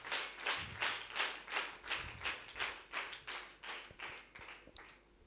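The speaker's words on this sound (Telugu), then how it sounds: "గట్టిగా చప్పట్లు కొట్టి ప్రభువుని ఘనపరుస్తాం." A congregation at a church blessing meeting claps hands loudly in a steady rhythmic beat, about eleven sharp, evenly spaced claps that ring out clearly with no voices over them.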